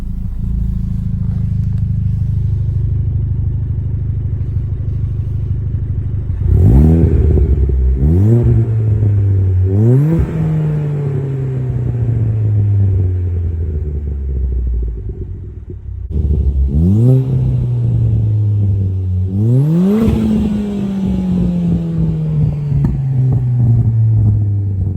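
A Ford Fiesta ST with a Stage 4 Revo-tuned turbo engine fires up from cold and settles into a steady, rumbling idle. Two sets of sharp throttle blips follow, each rising then falling back, loud and close with no talk.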